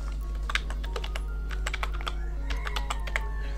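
Rapid, uneven clicking of a computer keyboard as a search term is typed into the Ubuntu search box, close-up over a low steady hum, with no speech.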